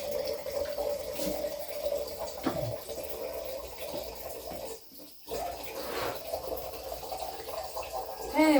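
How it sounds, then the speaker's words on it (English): Hot tap water runs and splashes in a sink while canning jars are washed, with clinks and shifting flow, a brief pause near the middle, then steady running again. "Two more jars to wash."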